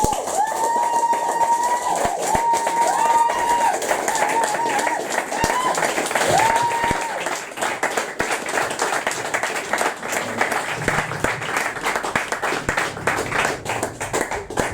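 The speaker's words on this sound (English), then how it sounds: "So more applause please for Chloe Orrock" An audience claps and applauds after a poem at a modern poetry reading night, steady dense clapping filling the room for the full stretch without talk.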